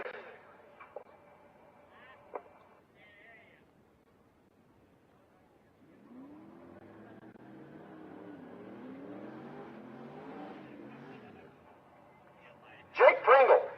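A Fox Mustang drag car with a 385 series big block engine at a bracket race, heard at a distance as a rising, wavering engine drone under a track announcer's voice, ending in a louder close burst.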